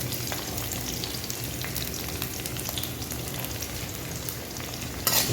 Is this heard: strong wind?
no